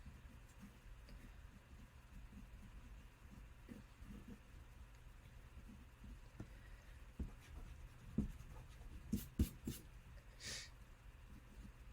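A pencil or pen draws on paper, making faint, soft scratching strokes in a quiet room, with a few brief louder taps near the end.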